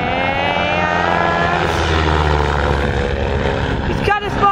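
A REVO aircraft flies in fast and low overhead, its engine a loud, steady droning roar with a rising and falling pitch sweep as it passes, with a person talking over it.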